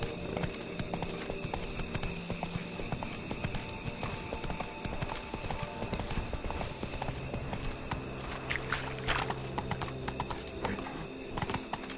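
Hooves of the horse Roach clip-clop steadily in a PS4 video game, a continuous rhythmic beat under dense game sound, with a brief whinny-like texture and faint low voice beneath.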